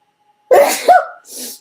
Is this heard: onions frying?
no